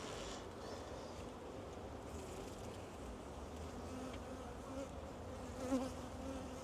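Honey bees buzz in a steady, dense drone during a beehive inspection, close and continuous throughout, with no voices.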